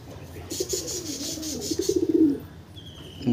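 Andhra pigeons coo close by in a series of soft, throaty, rolling calls that rise and then fade, with a faint higher chirp near the end.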